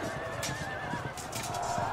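A horse neighs in the medieval strategy game Field of Glory 2 Medieval, a shrill whinny heard close and fairly loud over a steady bed of battle ambience, with no talk over it.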